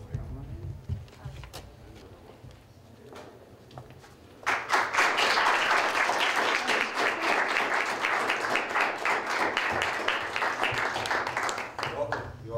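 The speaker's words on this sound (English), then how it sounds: "Thank God we have to clap for all of them." Student senators break into sustained applause at a general assembly meeting, many hands clapping loudly for several seconds after a quieter stretch with a voice speaking over room noise.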